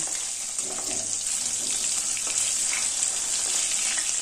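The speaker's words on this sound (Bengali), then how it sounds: "মাছের এই পাশটা ভাজা হয়ে গেছে, এবার আমি উল্টে দিচ্ছি।" Rohu fish pieces sizzle steadily in hot oil in a home kitchen as the fish is turned, a dense continuous crackling hiss heard up close with no talking.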